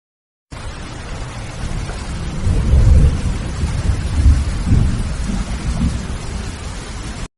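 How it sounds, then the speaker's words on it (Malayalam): Heavy rain pours steadily on surfaces while thunder rumbles low and rolls through twice, a loud continuous storm wash with no voices. "എന്തൊരു മഴയല്ലേ?"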